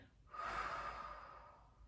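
One deep, audible breath during a Pilates mat class, a soft airy inhale or exhale rising and fading slowly over about a second and a half, close and quiet, with no talking.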